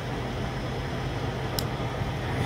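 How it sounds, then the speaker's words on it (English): A truck idles right beside an open window, a steady broadband engine drone and hum filling the moment, with a brief high whistle-like blip partway through and no talking. "I hope this truck next to me is not too loud."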